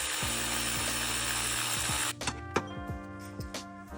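An electric ratchet whirs loudly and continuously, spinning out an idler pulley bolt during a timing belt replacement, then stops, followed by a few close metallic clicks and handling knocks.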